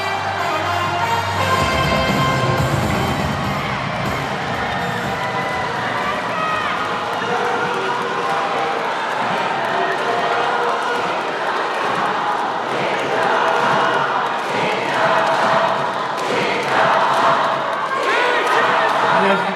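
Crowd noise fills a hall as party members greet a youth supreme council candidate at a People Power Party joint campaign rally in the Chungcheong region, a steady loud wash of applause and cheering mixed with music throughout.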